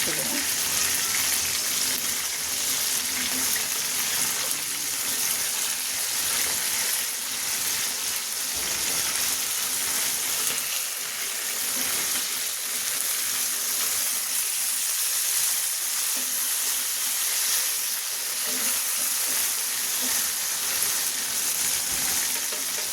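Chicken chaap frying in a pan with home spices, a steady crackling sizzle that runs loud and continuous, with a voice speaking over it now and then.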